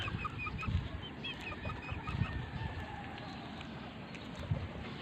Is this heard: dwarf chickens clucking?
yes